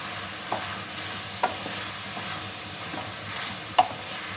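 Brinjal and fish curry fry in plenty of oil with a steady low sizzle, while a spoon stirs and occasionally knocks the pan in a few distinct clacks, close and moderately quiet.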